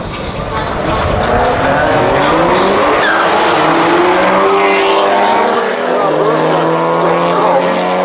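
A no-prep drag racing car launches loudly at Manston Raceway and roars up the quarter-mile strip with engine howl and tyre noise, and its pitch climbs as it pulls away. Voices are faint underneath.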